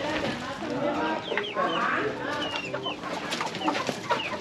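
A rooster in a catching competition in Lazaro Cardenas, Michoacán, clucks and squawks repeatedly up close amid people talking and shouting.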